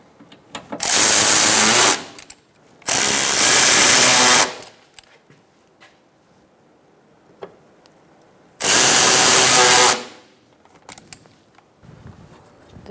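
Power tool, likely an electric ratchet or impact driver, snugs up fasteners on a 2012-2018 Ford Focus during a windshield washer reservoir replacement, in three loud whirring bursts of roughly one to two seconds each, then a short fainter burst, with quiet gaps between.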